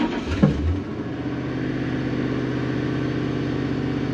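A Ford Crown Victoria engine in a garage build settles from a brief rev into a steady, even idle, a close continuous low rumble with no talking.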